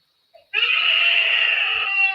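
A young child screams at home, one long, loud, sustained high-pitched wail that starts abruptly after a brief sound and holds steady to the end, with no talking over it.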